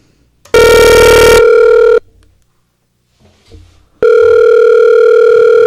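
Telephone ringback tones during an outgoing phone call, loud and steady: a long tone, then a pause with faint rustling, then another long tone.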